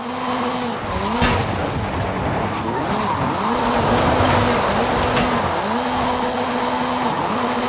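A Ford Focus RS RX from Hooligan Gymkhana 10, with a 2-litre turbocharged front-mounted engine and all-wheel drive, is driven in Forza Horizon 5. The engine drones loud and steady, rising and falling as it revs. Skids and tyre noise run throughout.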